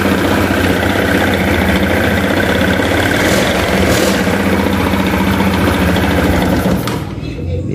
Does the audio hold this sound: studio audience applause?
no